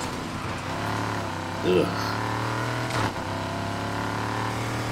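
A steady car engine in the video game Need for Speed Heat drones throughout with a low, even hum, while a person speaks over it briefly.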